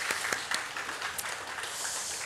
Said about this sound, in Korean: 환영의 박수 한번 칠까요?